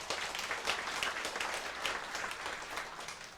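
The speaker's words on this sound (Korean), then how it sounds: "우리 의전 팀장한테 박수 한번 쳐주세요" An audience applauding at a community gathering, a dense, steady wash of many hands clapping together, distant and moderately quiet throughout.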